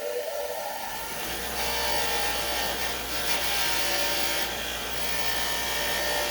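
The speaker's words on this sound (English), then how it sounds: "I'm just going to use a little bench grinder here with a wire wheel" A small bench grinder fitted with a wire wheel cleans up mower deck hardware, giving a steady whirring, abrasive hiss with a low motor hum that holds at a constant level throughout, with no talking.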